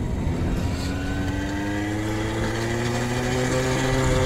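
A café racer moped engine with a flute-type exhaust instead of a conventional muffler drones steadily and loudly up close, its pitch rising gradually as it revs.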